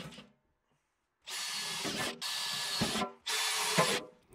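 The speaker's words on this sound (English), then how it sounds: "I mark the locations of the top steel tubes and where holes for rivets needs to be drilled." Power drill boring rivet holes in steel tubes for a DIY electric kiln hinge: three sustained bursts of loud whining drilling, each about a second long, separated by short pauses, after a quiet start.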